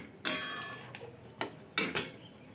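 Cauliflower roast masala stirred in a pan: a few sharp scraping, clattering strokes of a utensil against metal, separated by short pauses, close and fairly loud.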